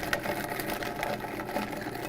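A Vitamix blender chops onion at a low variable speed, giving a steady, close mechanical whir with a rapid, even chopping rhythm and no pauses.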